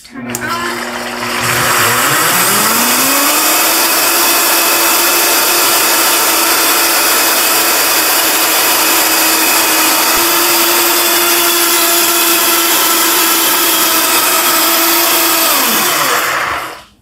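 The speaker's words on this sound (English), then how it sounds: "So I'm going to use a Vitamix, but any high-powered blender will work." Vitamix high-powered blender whirring loud and steady as it churns yogurt into butter, its motor spinning up quickly, holding a constant pitch, then winding down.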